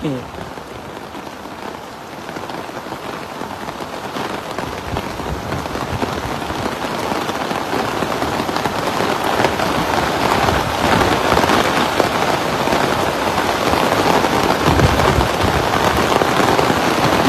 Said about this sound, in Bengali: দুবাইয়ের বুকে এত বৃষ্টি আর হয় না এর আগে